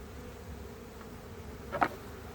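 Honey bees buzz faintly and steadily around beehives outdoors on a fine day, with one brief louder buzz as a bee passes close; no one speaks.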